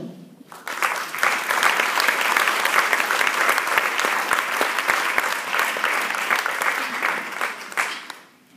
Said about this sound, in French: Et vous avez fini vos applaudissements.